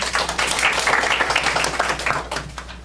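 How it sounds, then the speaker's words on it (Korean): Audience applause at an education conference presentation fills the room, a steady dense patter of many hands clapping at moderate volume without pause. "모두 큰 박수로 환영 부탁드립니다."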